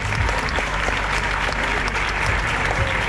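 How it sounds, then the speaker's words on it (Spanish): Loud crowd applause and cheering at the start of a charity road race in Valencia, dense continuous clapping close and strong with a busy outdoor crowd roar beneath it. "Así que un aplauso para todos."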